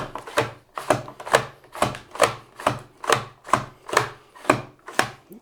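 A ONCE FOR ALL mandoline slicer cuts through food in thick slices, giving a steady rhythm of about ten sharp scraping strokes, each a crisp swipe with brief pauses between, close and clear with no talk.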